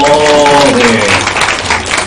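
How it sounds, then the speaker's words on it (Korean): Church congregation at a children's Sunday school session claps in a brief burst of applause, dense and steady, with a sustained tonal voice or music line fading underneath early on. "박수 한번 쳐주세요"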